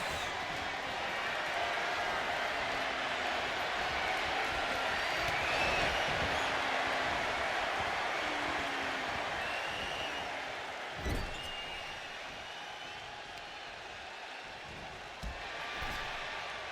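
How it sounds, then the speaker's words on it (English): A wrestling arena crowd in the WWE 2K25 video game roars and applauds in a continuous dense wash, with occasional thuds and impacts cutting through the steady noise. "Look at this crowd outside going absolutely insane over this."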